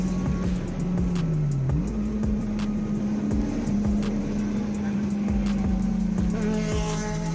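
A Honda Civic on a street race run with its engine revving hard and pulling, the steady drone rising in pitch as it accelerates, loud and continuous with faint clicks over the top.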